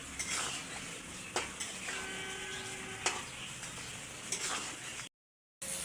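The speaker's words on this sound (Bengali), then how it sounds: "আর এখন একটু আগে কষিয়ে নেবো কইগুলোকে।" Whole koi fish sautéed in oil in a pan, with a steady soft sizzle broken by scraping stirs and metallic clinks of a utensil against the pan, close and fairly quiet, then a brief drop to silence.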